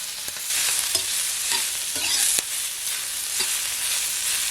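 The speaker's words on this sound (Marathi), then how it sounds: "कांदा आहे ना एकदम नरम होईपर्यंत आहे ना व्यवस्थित भाजून घ्यायचा" Onions sizzle and roast in a pan while being stirred for a Maharashtrian goda masala, giving a continuous frying hiss with repeated scraping strokes of the spoon against the pan, close and fairly loud, with no talking.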